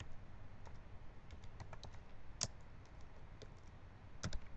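Code being typed on a computer keyboard, a faint uneven series of light key clicks with a couple of sharper taps, no speech.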